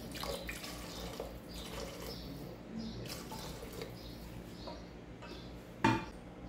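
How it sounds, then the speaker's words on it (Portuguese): Water is poured into a cooking pot to cover pieces of dried, salted beef (carne de sol) in a home kitchen, a steady running splash with a brief clink near the end, no talking. "Vou adicionar água até cobrir."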